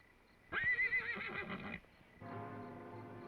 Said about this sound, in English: Fred, try to keep the horses quiet.